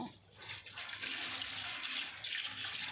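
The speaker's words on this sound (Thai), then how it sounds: "น้ำไหลบ่ น้ำไหล" Water flows steadily from a tap or hose while vegetables are watered in an outdoor garden, a soft continuous rushing splash, fairly faint and unbroken.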